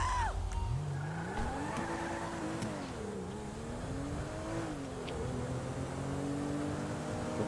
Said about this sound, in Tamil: முன்ன ஒரு சூப்பர் வண்டி போகுது